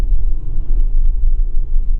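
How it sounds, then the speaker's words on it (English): A beat-up truck in Raleigh road traffic gives a loud, low rumbling engine drone, close and steady for a couple of seconds with no talk. "Dang, that truck was making all kinds of noise."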